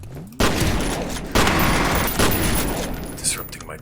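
Rapid gunfire from the shooter game F.E.A.R. rattles in dense, loud bursts, with sharp onsets about once a second, then trails off into scattered shots near the end.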